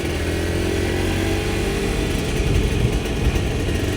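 A modified Honda NSR 150 SP motorcycle engine runs close by, a smooth steady two-stroke drone that swells slightly with small throttle blips toward the end, with no talk over it.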